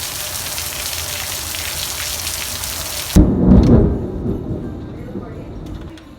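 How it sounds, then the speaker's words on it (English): Loud, dense rain and hail pour down, then a sudden deep rumbling crash of thunder from lightning directly overhead bursts in and slowly fades, leaving quieter rainfall. "It was raining so hard and hailing so hard, and there was lightning right on top of us"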